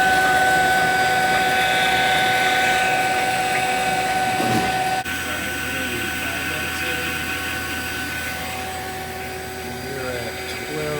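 A small vacuum pump runs on a walk-in freezer refrigeration system, a loud, steady mechanical drone with a whining tone that shifts and drops slightly partway through, close up.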